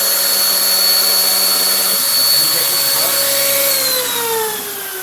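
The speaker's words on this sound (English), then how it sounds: "I gotta have the sander and I'm sanding right here" A drum sander whirring steadily with a high motor whine while sanding a guitar kit, its pitch shifting and easing down as it winds toward the end.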